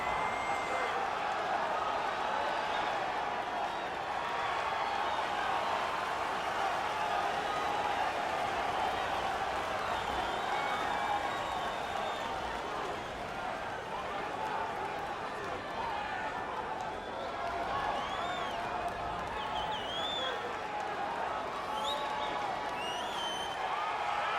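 Crowd cheering and roaring in the EA Sports UFC 3 video game as a fighter walks to the octagon, a steady loud arena roar with whoops under continuous commentary.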